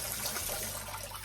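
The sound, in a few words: watering a Philodendron Birkin plant in its pot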